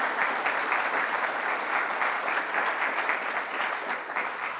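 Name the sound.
audience applauding supporters at an awards ceremony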